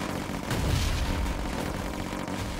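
Heavy cannon fire in a turn-based military strategy video game booms through a dense, continuous roar of battle, with a loud low-end blast near the start and sustained rumbling throughout.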